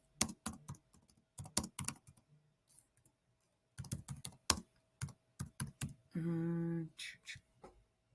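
Keys on a computer keyboard are typed in short quick bursts of close, crisp clicks separated by pauses, followed by a brief electronic tone near the end.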